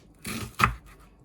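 An onion cut on a chopping board with two quick, close knife strokes, the second sharper and louder, then quiet.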